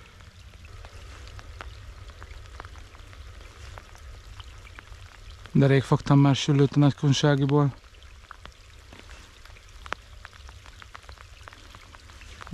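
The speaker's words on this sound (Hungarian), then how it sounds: "Hát igen, esik az eső" Steady patter of heavy rain falling in the background beside an irrigation canal, with someone speaking briefly over it partway through.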